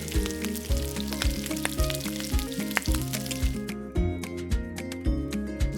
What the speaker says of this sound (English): We're gonna flatten it out and start frying away.